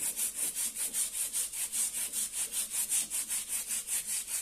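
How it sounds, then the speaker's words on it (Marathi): A new stone grinding slab is scrubbed with a scrubber while being washed, giving a close, steady run of quick rasping strokes in an even back-and-forth rhythm, with no voices. "अशा घासणीच्या साह्याने थोडंसं घासून आपण धुवून घेऊया"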